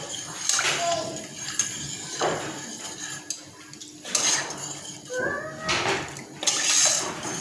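Konro soup with added water is stirred in a pot, giving intermittent watery sloshes and clinks of a utensil against metal, with people chatting softly in the background.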